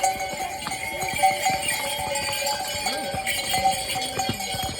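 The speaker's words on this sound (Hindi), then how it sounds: "ये घोड़े बहुत फास्ट है।" Horses clip-clopping along a mountain pilgrimage trail to Hemkund Sahib in Uttarakhand, steady overlapping hoof knocks at close range, fairly loud, with a tonal ringing background.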